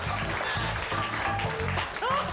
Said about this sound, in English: Let's have a huge round of applause for both of my volunteers.